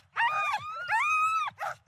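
Sled dog gives a couple of close, drawn-out whining howls or yips, high and tonal, with a short third cry at the end over a faint low rumble.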